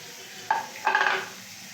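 Cashews and raisins hit hot oil in a pot for basanti pulao, giving two short bursts of sizzle and stirring, the second longer, before quieting.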